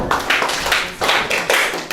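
An audience of young people at a peer-educator anti-drug training session claps in several distinct bursts, with sharp hand claps rising and falling in uneven waves, close and fairly loud.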